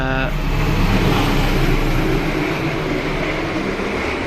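A passing Argo Muria passenger train rumbles steadily nearby, heard from a stopped train, with a low, continuous roar and some rattling, loud throughout and with no talking.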